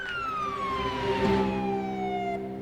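A police siren wails in a single long descending sweep, fairly close and loud, over a low rumble of traffic.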